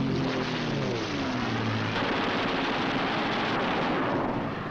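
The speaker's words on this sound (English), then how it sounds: "With the touch of the finger on the stick, a camera and 8 machine guns are put into action." Machine guns firing from a P-47 Thunderbolt fighter in 1944 wartime gun camera film, a dense, continuous loud roar of rapid fire blended with aircraft engine noise, with no voices.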